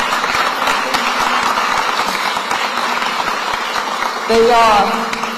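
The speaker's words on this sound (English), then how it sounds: "Please give them a round of applause." A crowd claps steadily in a broad, sustained wash of applause that carries through the whole stretch, with a brief voice-like tone near the end.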